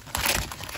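Packs of 2021-22 hockey cards from retail blaster boxes rustle and crinkle as they are shuffled by hand, a short close burst of crackling wrapper noise with no speech.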